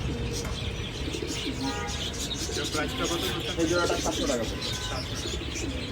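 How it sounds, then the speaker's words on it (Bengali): Pigeons coo at a busy pigeon market where pure Danish, Mukti and throated breeds are sold, the soft cooing and chirps mixed into crowd noise while people talk and bargain throughout. "এটা হচ্ছে মুক্তি, গলা কষা কবুতর"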